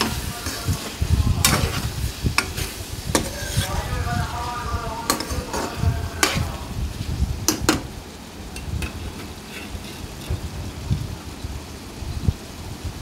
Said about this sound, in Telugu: చూసారు కదండి, వంకాయ ఈ విధంగా మగ్గుతుంది కదా ఆయిల్లో.